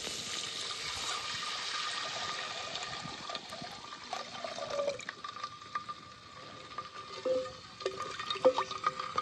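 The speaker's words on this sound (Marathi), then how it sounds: "आता पाणी ओतून घेणार आहे" Plenty of water poured into a hot frying pan after frying, giving a continuous splashing, trickling pour with stirring clinks toward the end, close by.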